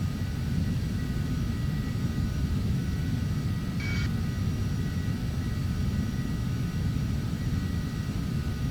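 A simulated aircraft engine drones steadily in flight in Microsoft Flight Simulator X, a constant broadband roar with no breaks, heard alone and fairly faint.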